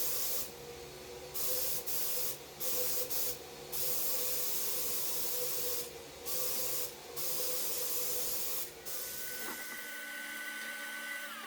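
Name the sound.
spray painting speaker grille frames with flat black paint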